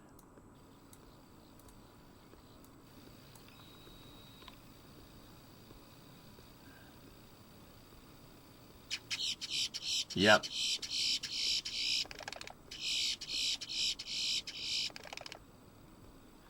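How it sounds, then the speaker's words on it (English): A bird nesting beside a microphone chirps in a quick run of rhythmic, close, bright bursts over several seconds, with one sharp sweeping call among them. Before that there is quiet background hiss, and a voice speaks briefly. "there's definitely a bird nesting next to one of the mics"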